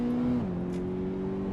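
A car engine in the racing game Assetto Corsa Evo, a steady droning hum that steps in pitch once and then holds, fairly quiet and alone.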